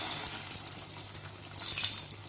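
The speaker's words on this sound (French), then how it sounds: "Nous allons verser 1 litre d'eau" One litre of water is poured into a pan for a stock, a steady close splashing and trickling that runs for a couple of seconds over a low background hum, with no talking.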